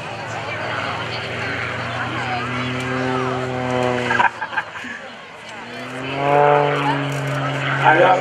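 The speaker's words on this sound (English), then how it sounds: "Gary Ward, when he is flying aerobatics in that MX2, he does not like to pull back on the throttle" Engine of an MX2 aerobatic airplane at full throttle during an airshow at Greenwood Lake, a steady droning tone with a brief dip then rising again, heard under continuous commentary.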